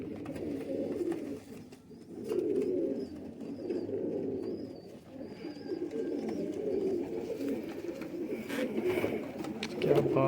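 Faqeer gull pigeons coo softly in a loft, low murmuring coos repeating in close, uneven bursts with faint chirps and rustling around them.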